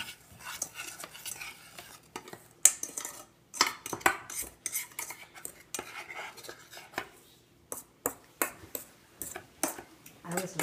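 Chocolate cream pie filling is mixed in a bowl with a utensil, giving irregular clinks and scraping knocks against the bowl in uneven bursts, close and fairly quiet, with brief talking in between.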